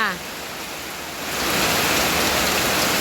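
Heavy rain pours down steadily, a dense roaring hiss that swells louder after the first second and stays thick and continuous.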